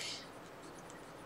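A pencil scratches briefly across a paper envelope, a soft close scrape at the start that fades into quiet room tone.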